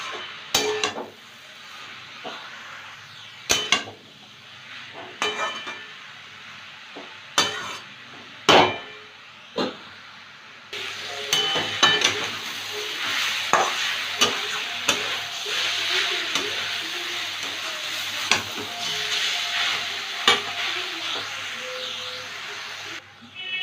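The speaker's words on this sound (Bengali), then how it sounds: "এবার একটু ভাজবো।" Beetroot chachchari frying in a pan, a steady soft sizzle under repeated clinks and scrapes of a spoon stirring, the sizzle growing denser and louder partway through, with no talk.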